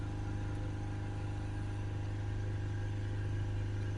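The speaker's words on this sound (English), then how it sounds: "I'm going to start the van up. We'll hold the revs again back at 3000" A Ford Transit MK8 van's 2.2 diesel engine runs with revs held steady at 3000 during a DPF clearing procedure, giving a constant, even drone with no talk.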